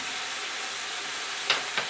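Cabbage and minced garlic fry in a Dutch oven with a steady, loud broadband sizzle, broken near the end by two quick clinks of a utensil against the pot.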